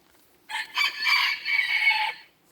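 A rooster in a backyard henhouse crows once, a clear, fairly close call of about a second and a half against a quiet background.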